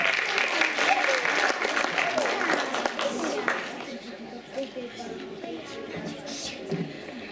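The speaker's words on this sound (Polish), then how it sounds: "Jeszcze raz brawa dla pani Bożeny Kalinowskiej" Audience applause for Bożena Kalinowska at the results announcement of a patriotic and religious song festival, strong clapping for the first few seconds that thins and fades out, with people talking over the tail end.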